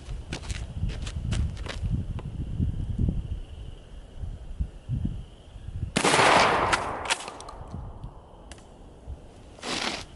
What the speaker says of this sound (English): let's shoot the KSG with the improved cylinder